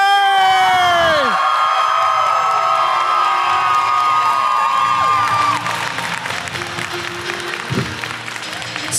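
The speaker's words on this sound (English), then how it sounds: "give a huge round of applause for Steve Burns!" Convention crowd at a comic con panel applauding and cheering for Steve Burns of Blue's Clues, a loud sustained roar of claps and whoops that eases slightly toward the end, with some shouted voices mixed in.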